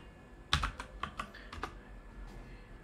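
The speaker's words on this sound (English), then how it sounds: "Just type uninstall install Visual Studio Mac" Keystrokes on a computer keyboard as a search is typed into a browser URL bar, a short quick cluster of close, light clicks followed by quiet.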